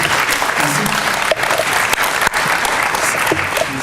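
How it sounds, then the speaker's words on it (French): Loud, steady applause from an audience at an awards ceremony for a digital education prize, filling the whole stretch with dense clapping and a few brief crowd noises. "on peut l'applaudir très fort"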